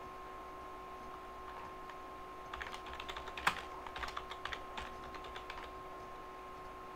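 Computer keyboard typing while entering editable text in video editing software, a short burst of quiet, close clicking keystrokes in an irregular rhythm over a faint steady hum.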